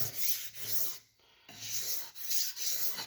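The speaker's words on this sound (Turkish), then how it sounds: "Hassas bileme yapıyoruz artık." Steel knife blade being honed on a sharpening stone for a fine edge, a steady rhythmic rasping of strokes back and forth, close and fairly loud, with a brief pause midway.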